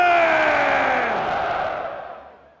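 A huge outdoor crowd at a PTI political rally in Faisalabad roars back a slogan in unison, a loud collective shout that swells at once and then gradually fades away over a couple of seconds.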